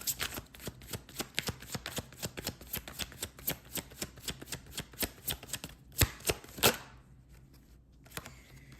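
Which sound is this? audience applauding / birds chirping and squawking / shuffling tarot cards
shuffling tarot cards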